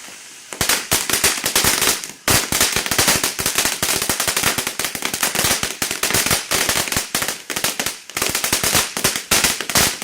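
A Winda Bouquet Fountain firework sprays loudly and continuously, a dense stream of crackling pops and sizzling bursts with a brief lull near the start and again toward the end, heard close with no talking.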